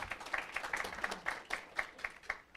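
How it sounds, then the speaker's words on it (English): Sparse, faint hand claps from a small audience at a health-tech venture capital panel event, a dozen or so distinct claps in an uneven rhythm. "Applause."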